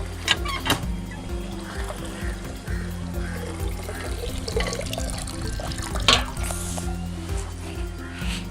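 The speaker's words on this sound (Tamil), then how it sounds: "இப்போ போய் செடிக்கு தண்ணி ஊற்றிக்கலாம்" Water poured from a tap or can onto newly planted garden plants at home, a steady splashing and trickling stream that runs continuously throughout, close by, with no talking.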